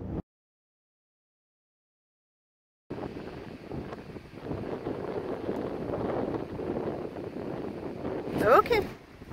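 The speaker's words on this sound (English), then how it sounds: "It was a super windy day." After a brief silence, wind coming off a lake buffets the microphone with a rough, steady roar that gusts louder toward the end.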